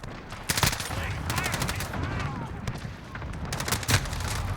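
Repeated gunfire from a Modern Warfare hardcore multiplayer match, sharp shots cracking in bursts with several heavy reports near the start and end, over a constant bed of game noise.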